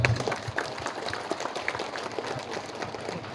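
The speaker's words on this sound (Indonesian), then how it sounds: "tepuk tangan untuk pedagang." A crowd at the opening of a traditional market gives faint, scattered applause of uneven claps, heard from a distance for a few seconds.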